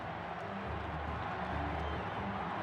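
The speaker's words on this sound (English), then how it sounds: "The crowd chanting ISU." Stadium crowd at an Iowa State Cyclones college football game in 2017, a dense, steady roar of massed voices with a rhythmic chant running throughout, loud and continuous in the closing seconds of a win.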